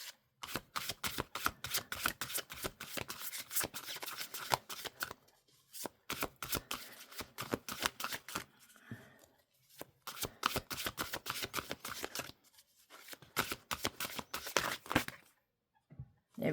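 Tarot cards being shuffled by hand in a quiet room, a rapid run of crisp, papery riffling flutters in repeated bursts separated by brief pauses.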